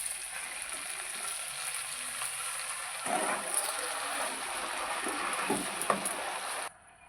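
Fresh spinach sizzling in a hot frying pan in a village kitchen, a steady close hiss with a louder crackling surge as the leaves go in, then an abrupt cut near the end.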